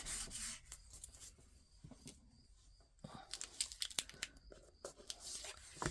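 An eraser rubs on paper while autumn-themed crafting cards are made, giving soft, scratchy back-and-forth strokes in quiet, uneven bursts close by.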